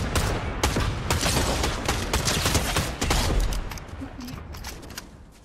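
Rapid, dense bursts of automatic gunfire in the video game Fortnite, loud and close, rattling almost continuously before thinning out and fading toward the end.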